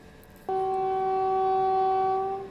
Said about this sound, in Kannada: ಮೇನ್ ಲೈನ್ ಒಳಗೆ ಯಾವುದೋ ಗಾಡಿನೂ ಬಂತು ನೋಡ್ರಿ